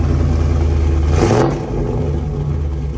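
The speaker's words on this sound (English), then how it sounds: "Give me a rev." A car engine fitted with new 2-inch primary headers and a cam revs once, rising in a loud surge near the start before settling back to a steady, rumbling idle.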